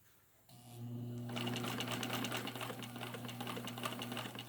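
Brother SE600 embroidery sewing machine running a basting stitch during quilting, a steady close motor hum with rapid needle ticking that starts after a brief quiet moment and continues loudly to the end.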